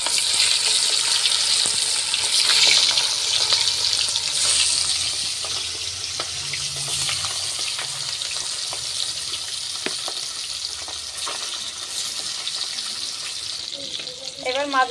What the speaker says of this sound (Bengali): প্রথমে আমি ইলিশ মাছগুলো ভেজে নিচ্ছি।